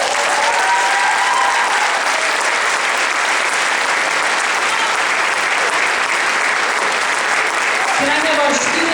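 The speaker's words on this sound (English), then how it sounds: "Round of applause, please, for them." Sustained, loud audience applause at a school senior ceremony as students stand to be recognized, a dense continuous roar of clapping with a voice briefly heard near the end.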